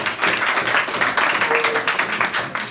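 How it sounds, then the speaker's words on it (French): An audience at a physical education teacher's talk on basketball claps together in a sustained round of applause, fairly loud and even, with no speech over it. "Est-ce qu'on peut applaudir?"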